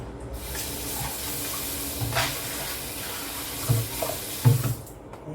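Almonds and apples rinsed under a running kitchen tap, water splashing steadily into a sink with a few louder splashes and clatters near the end, no voices.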